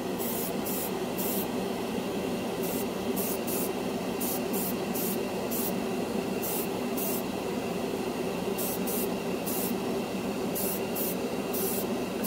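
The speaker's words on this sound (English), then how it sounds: "I know I could just spray the clear red over white plastic." Short bursts of clear red spray paint hiss in a stop-start rhythm, several quick passes over chrome on a scale model, over a steady background hum.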